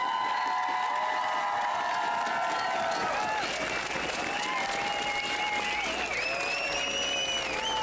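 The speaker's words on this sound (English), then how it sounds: "One more round of applause and appreciation for their good man" A large crowd at the 2014 North American Indigenous Games closing ceremony applauds and cheers in a dense, steady wash of clapping that lasts the whole stretch, with whistle-like tones and a few whoops rising above it.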